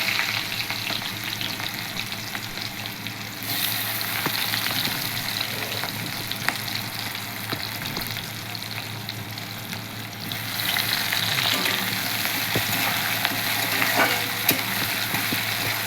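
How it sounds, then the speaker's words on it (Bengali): Chopped onion fries in hot oil with a loud, continuous hiss that swells and eases as it is stirred, with occasional light clicks of a spoon against the pan. "পেঁয়াজটা একটু লাল লাল করে ভাজবে নাকি কেমন করে?"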